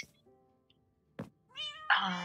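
Cats in the Minecraft video game meow, including a black cat from a witch's house: a faint short mew, then louder, drawn-out meows near the end, with a soft thump between.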